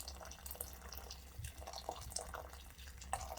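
Boiling water is poured into a pot of simmering adobo broth, a steady close splashing and trickling with small drips and bubbling, without talk.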